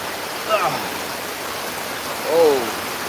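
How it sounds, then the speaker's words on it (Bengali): Heavy rain falling at Gabtoli cattle market, a continuous hiss of rain under two brief bursts of a person talking. "কারণ প্রচুর বৃষ্টি তো"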